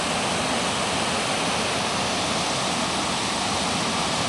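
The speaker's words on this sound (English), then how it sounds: "Então aqui a gente tá na cachoeira do..." A waterfall in Minas Gerais, Brazil, roars as a loud, steady broadband rush of falling water that fills the whole clip without any pause.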